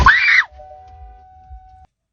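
A single loud, close scream rises and then falls away in under half a second, followed by a faint lingering tone and near silence.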